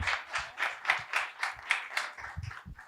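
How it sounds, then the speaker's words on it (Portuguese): Rhythmic, evenly spaced hand claps ring out at a sports-law panel event in Brasília, a steady moderate-volume beat of roughly four claps a second from a small group, with no talk over them. "Uma salva de palmas para o Dr. Rui, nosso querido amigo,"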